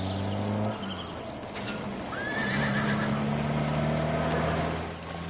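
A horse gives a loud, drawn-out whinny near the middle of the clip, with a shorter call just before it, over a low engine-like rumble and possible hoof clops.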